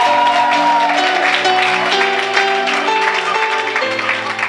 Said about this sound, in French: on peut entendre des acclamations et des cris de joie.